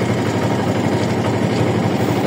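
A trawler boat's engine runs on a haor, its steady low drone close and constant without pauses, with a faint rough chug under the hum.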